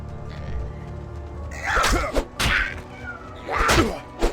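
A house cat meows several times at close range indoors, the cries loud and drawn out, separated by short pauses.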